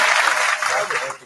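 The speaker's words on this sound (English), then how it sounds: "Give her applause to heaven, y'all." A short burst of applause from a podcast audience, dense clapping that is loud at first and then tapers slightly, with voices mixed in.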